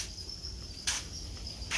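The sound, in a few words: golden Thai crickets chirping in a breeding cage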